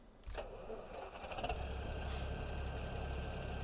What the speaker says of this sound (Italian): Facciamoci l'accensione del motore.